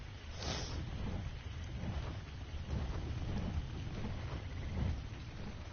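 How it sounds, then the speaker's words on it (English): Steady rain at night in a video game hisses continuously with a low rumbling undertone, a soft, even downpour with no voices. "it's night and it's raining"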